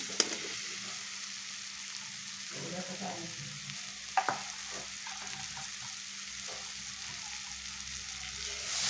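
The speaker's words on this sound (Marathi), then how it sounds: "थोडी कोथिंबीर टाकायची, चांगलं हलवून घ्यायचं" A vegetable dish with coriander is stirred in a pan, a quiet steady sizzle with a few soft scraping strokes and a couple of brief spoon knocks, no talking.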